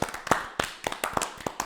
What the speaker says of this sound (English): How about a Drunk Rasslin round of applause for the Jumping Bomb Angels?